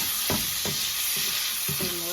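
Potato gnocchi dropped into browned butter with sage in a hot pan, giving a steady close frying sizzle with a few soft thuds and stirring knocks as the pieces land and move, with no voices.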